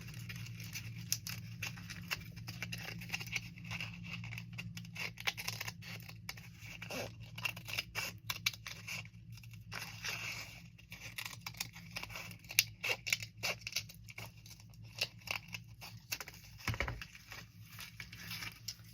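Scissors snip and crunch through stiff journal cover material in quiet, close, irregular cuts, with scratchy rustling between the blades' closes over a low steady background hum.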